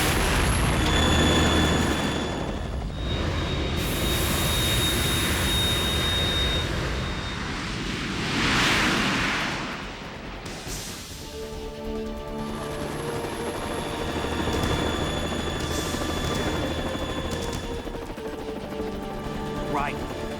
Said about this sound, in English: I can't stand up to the Harrier. You have to shoot the Harrier down.